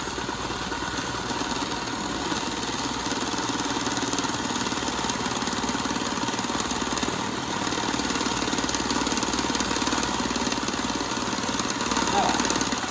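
An electric mixer whips cream for strawberry ice cream, giving a steady, loud, continuous motor whir that holds without a break throughout.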